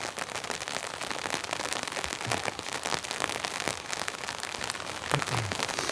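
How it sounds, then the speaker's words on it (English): Rain patters steadily at a winter campsite, a dense crackling of drops striking nearby surfaces, close and continuous with a few sharper taps. "it looks like it's turned to rain, unfortunately"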